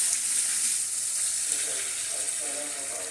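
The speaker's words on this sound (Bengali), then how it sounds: "এই যে মাছ, ভালো করে নেড়ে চেড়ে এপাশ ওপাশ করে মশলার সঙ্গে মাছগুলো কষিয়ে নেব।" Hilsa fish being stir-fried in oil with spice paste in a pan gives a steady, close, dense sizzle that holds evenly throughout, with no talking.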